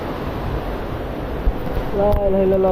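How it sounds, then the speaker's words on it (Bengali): A loud, steady roar of wind-driven heavy rain from a Kalbaishakhi nor'wester storm fills the air, and a voice speaks over the storm near the end. "বাতাস অনেক বাবারে কিছু দেখা যায় না এত জোরে বৃষ্টি"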